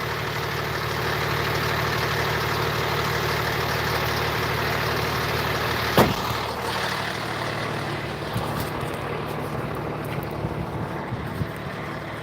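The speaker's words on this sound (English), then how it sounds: "Pardon the noise of the truck for just a minute." A truck engine idles at an impound lot, a steady low rumble with wind noise over the microphone, broken by a sharp knock midway and some light handling clatter afterward.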